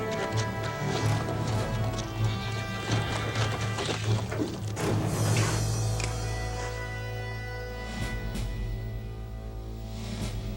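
Horse hooves clopping and shuffling amid a busy, noisy scene, with a low steady rumble underneath and scattered clatter.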